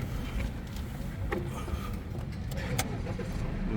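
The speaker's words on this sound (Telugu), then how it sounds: "ब्रेक पे पैर डाले तो गाड़ी स्टार्ट हो जाएगी ना" A 2018 Volvo S90 D4 diesel car's engine fires up and settles into a steady, close, low rumble, with faint background noise throughout.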